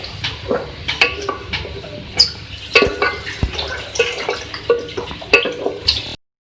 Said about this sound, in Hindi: अब मैं इसके अंदर गोश्त ऐड करूँगी। इसको मिक्स करें।